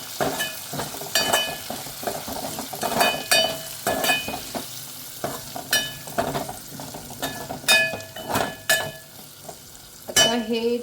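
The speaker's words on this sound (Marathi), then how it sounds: "आता हे सगळं छान असं परतून घ्यायचं आहे." Cabbage with turmeric being sautéed in a pan: steady sizzling with repeated scraping and stirring strokes in an irregular rhythm, close and moderately loud, with no talking.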